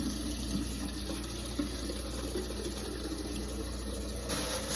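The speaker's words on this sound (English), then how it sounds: "filling up another can." Tap water running steadily into a can at a sink, a constant broadband rushing pour that holds level for the whole stretch, close and fairly quiet.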